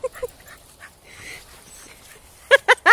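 A dog in a forest gives short high whimpers and yips, a couple early and a louder cluster of three near the end, with quiet rustling between.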